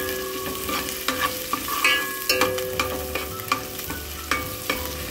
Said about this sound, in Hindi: ये मैंने 2 चम्मच लहसुन अदरक का पेस्ट इसमें डाल दी है और इसको अब मैं फ्राई कर लूँगी।